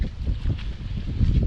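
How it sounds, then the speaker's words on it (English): Strong gusting wind buffets a kayak on Watts Bar Lake, a loud, continuous low roar with swelling bursts and wind noise on the microphone throughout. "the wind is just gusting"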